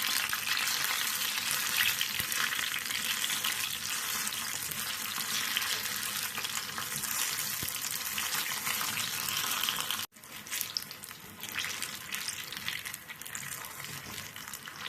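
Chicken bondas deep-fry in hot oil with a continuous loud crackling sizzle, briefly cut off once and then resuming a little quieter and less dense.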